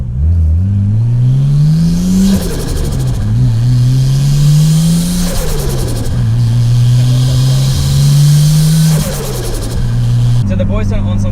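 Car engine fitted with an RB25 turbo kit revving repeatedly, rising and falling in pitch through several loud, close pulls with brief drops between them.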